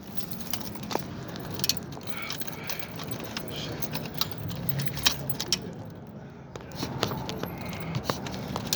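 A bunch of keys jangles and clinks near a car repair shop door, metal pieces rattling in irregular bursts over a busy mechanical background.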